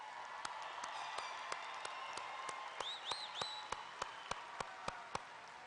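Audience applause for honor graduates at a 2018 high school graduation ceremony: a faint, steady patter of scattered clapping with a few louder, distinct claps standing out near the recording.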